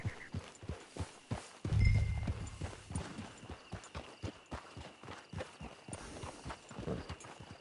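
Hooves clip-clop at a steady walking rhythm in Red Dead Redemption 2 Online, close and fairly crisp, with a brief low thud partway through and faint mechanical clicks.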